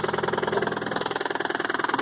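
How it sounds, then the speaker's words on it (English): A Toyota Celica engine idles close by with a fast, even pulsing chug and a slight knocking rattle, steady for the whole stretch. "Hear the engine."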